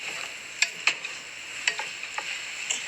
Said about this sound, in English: And I'm stirring it together.